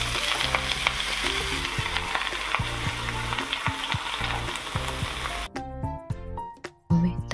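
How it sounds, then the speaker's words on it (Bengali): Dried chillies, bay leaf, radhuni and cut bottle gourd with green chillies fry in hot oil, a loud steady sizzle with stirring clatter that thins into sharper, sparser crackles near the end. "ফোড়নে শুকনো লঙ্কা, তেজপাতা আর রাঁধুনি তেলে দিয়ে কেটে রাখা লাউ লঙ্কা একসাথে দিয়ে দিতে হবে"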